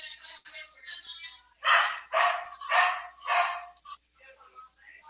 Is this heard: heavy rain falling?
no